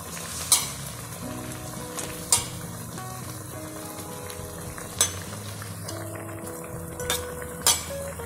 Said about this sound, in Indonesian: Setelah mendidih, kita masukin sayuran, sosis ya teman-teman.